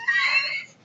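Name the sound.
dog whining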